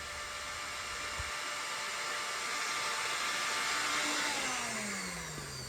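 A blender whirs at high speed as it grinds pure cane sugar into powdered sugar, a loud steady roar that holds for several seconds with a faint rising pitch sweep near the end.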